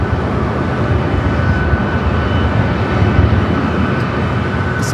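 Singapore Airlines airliner taxiing toward the Tom Bradley terminal gates at Los Angeles airport, a steady loud broadband jet engine rumble and hiss that holds without a break.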